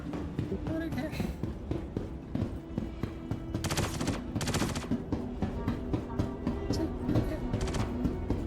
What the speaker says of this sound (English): They were shooting at you.